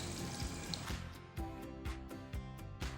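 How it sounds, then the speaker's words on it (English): Water poured into a pot of pork belly and preserved mustard greens, a soft trickling fill with repeated sloshing pulses and drips, quiet and close. "Add enough water to cover the pork and the vegetables."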